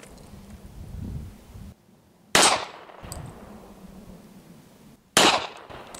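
A .40 caliber pistol fires two sharp, loud shots at a shooting range between tactical reloads, about three seconds apart, with quieter handling noise and room rumble in between.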